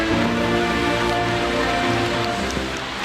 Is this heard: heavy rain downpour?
yes